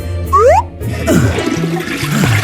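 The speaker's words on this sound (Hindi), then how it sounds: "अरे नहीं, उसने खुद को टॉयलेट में फ्लश कर लिया।" A toilet flushes in a video game, a loud short whoosh with rising tones giving way to gurgling water and game sounds.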